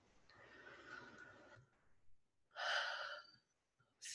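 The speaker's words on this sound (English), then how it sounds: "Take a deep breath." A person takes a deep breath, an audible drawn-out inhale followed by a louder, breathy gasp-like exhale, close and quiet, with a short breath starting again at the end.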